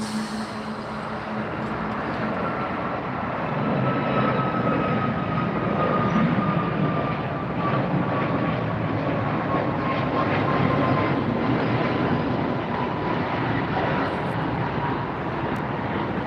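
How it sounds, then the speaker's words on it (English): A United airliner jet departing LAX airport fills the air with a loud, continuous broadband roar and a slowly falling engine whine that holds steady throughout, with no talking. "And we've got a United heading out."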